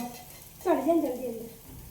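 Oil poured into a hot pan while frying a flatbread, a sudden sizzle that swells and then eases off over about a second, close and fairly quiet.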